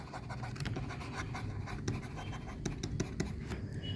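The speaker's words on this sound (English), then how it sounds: "Now we just need to write it down." Pen scratching on paper while writing down accounting figures, a soft, close run of short strokes and taps with no talking.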